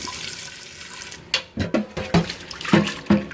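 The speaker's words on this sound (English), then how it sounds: "I'm going to rinse it out real good one more time." Water from a tap sloshing and rinsing out a cast iron pot, a quiet start followed by a series of close, uneven splashes and swirls.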